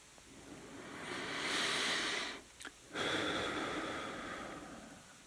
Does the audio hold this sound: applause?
no